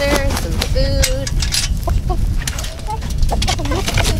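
Hens cluck in short repeated bursts close by, mixed with people talking over a busy, noisy farmyard background.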